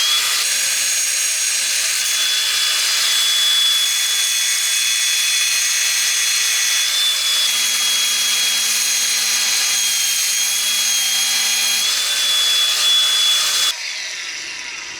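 A power tool cuts steadily through a car brake part on a Camaro restomod, giving one long, loud, continuous high whine that stops abruptly near the end.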